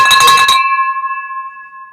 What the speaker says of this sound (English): Davis, you're hearing the bell, baby.